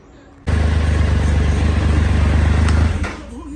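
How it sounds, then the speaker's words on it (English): A Triumph Tiger 1200 motorcycle engine starts up and idles with a steady, throbbing low rumble, close by, before cutting off near the end. "bike's been idling for 5 minutes"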